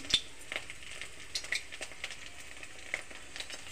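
Cut paneer cubes fry in hot oil in a pan, with a soft, steady crackle and scattered small clinks and scrapes from a utensil, faint and close with no talk.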